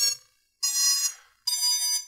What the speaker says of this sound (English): I can hear my ESC's beep.